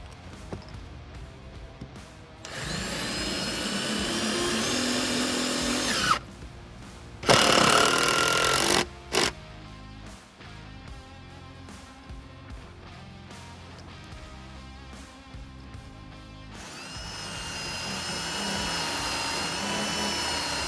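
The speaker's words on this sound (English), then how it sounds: "take 3 more of these fasteners and send it on the other side back here to make sure nothing moves" A power tool drives fasteners into a rebuilt wooden stair tread in loud, sustained whirring bursts up close, separated by quieter pauses.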